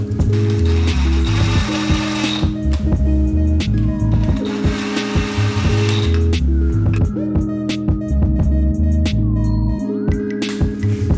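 A ratchet wrench tightens cylinder head bolts on a Ford FE 352 V8 in a 1965 F100, with loud, close, continuous metallic clicking in repeated bursts and short pauses between strokes.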